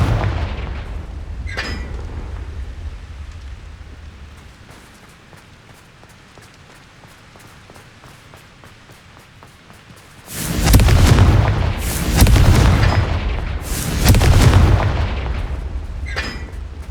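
Booming Confringo blasting-spell explosions from the Hogwarts Legacy video game, with a fainter blast early on and then three heavy, loud bursts in quick succession near the end after a quiet stretch.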